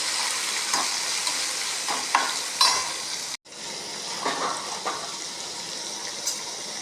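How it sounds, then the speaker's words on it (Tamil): Onions sautéing in a pan for a Tamil-style mochakottai and pumpkin gravy, a steady close sizzle with scattered stirring scrapes and a brief break midway, no voices. "வெங்காயம் வதங்கட்டும்."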